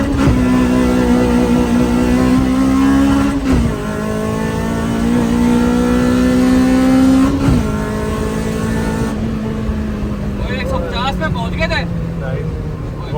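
A Suzuki Cultus converted with a Toyota 2ZZ engine accelerates hard through the gears, its loud engine note climbing steadily, dropping briefly at each shift and climbing again, before easing off near the end.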